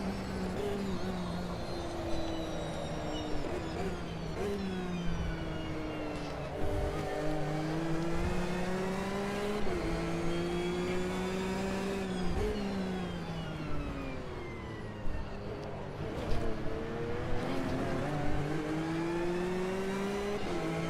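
Race car engine in the Automobilista 2 simulator, a historical endurance machine, held at a steady high drone with harmonic bands rising and dipping through gear changes over about twenty seconds, loud and continuous with no talk.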